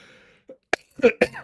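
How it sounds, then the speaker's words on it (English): A couple of short, sharp coughs with a throat-clearing quality, close up, after a brief quiet stretch. "Let me not cough in your ears."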